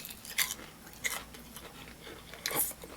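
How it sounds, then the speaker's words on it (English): Crunchy brunch food, bread topped and crisp like a chip, bitten and chewed close to the mic in three sharp crunches spaced over a few seconds, with no talking. "I know this is going to crunch."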